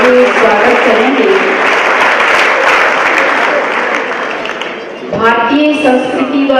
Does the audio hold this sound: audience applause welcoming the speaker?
yes